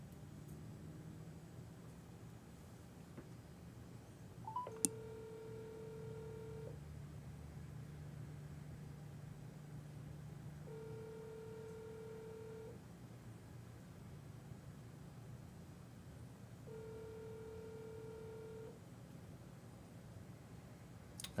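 A phone call ringing through to voicemail: three evenly spaced ringback tones, each about two seconds long with long gaps between them, faint and thin over a low steady hum, with a single click near the start.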